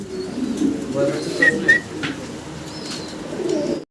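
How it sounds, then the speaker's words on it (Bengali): Modena pigeons in a fancy-pigeon loft give low, soft cooing murmurs, with a few brief higher chirps and light rustles, close by and fairly quiet. "মডার্না কবুতরের পুরো ফ্যামিলি দেখাচ্ছি"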